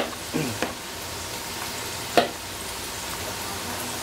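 Quiet, steady sizzling of tapioca balls (cimol) frying in oil, with a few soft clicks and stirring knocks scattered through.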